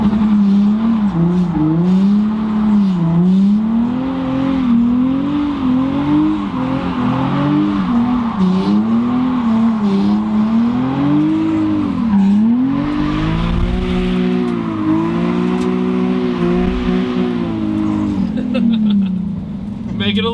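Stock Nissan 350Z drifting on a street, loud engine droning and wavering in pitch under sustained tire squeal throughout, close and continuous.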